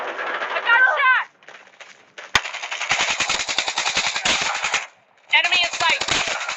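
Assault rifle fire in the mobile shooter Call of Duty Mobile comes in rapid automatic bursts, with one sharp single shot and brief gaps between. Game voices and chirping effects are heard around the gunfire.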